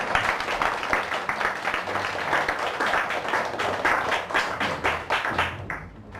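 A church congregation claps for a newlywed couple, sounding like a crowd clapping in loose unison with a distinct rhythmic pulse, moderately near and steady before fading at the end.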